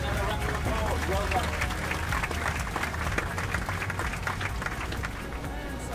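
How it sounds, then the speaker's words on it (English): A round of applause breaks out among a group, dense overlapping clapping with some cheering and chatter mixed in, holding steady throughout with a low rumble beneath. "Give yourself another round of applause"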